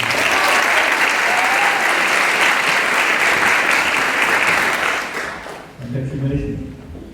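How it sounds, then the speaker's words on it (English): Audience at a school valedictory ceremony applauding an award recipient, loud sustained clapping that fades after about five seconds, followed by a voice speaking. "Ladies and gentlemen, please give a round of applause"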